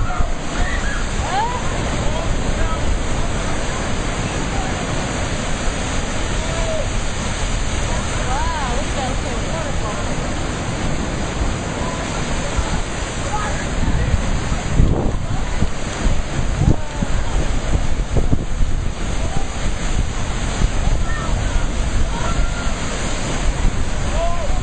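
Rough sea waves surge and break in a continuous loud wash, heavily mixed with wind buffeting the microphone aboard a boat, with people's voices underneath.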